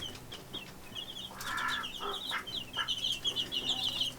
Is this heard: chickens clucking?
yes